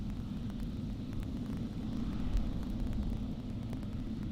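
KLM Boeing 777 at Amsterdam airport, a steady low jet rumble that swells slightly midway, moderately distant and without talk.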